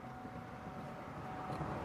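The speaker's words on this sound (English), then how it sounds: "I hear the fuel pump working, which is good." Fuel pump running in a 2003 Chevy Malibu: a steady, faint, continuous hum and drone with no clear breaks and no talking.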